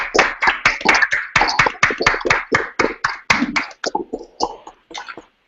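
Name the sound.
audience clapping after student presentation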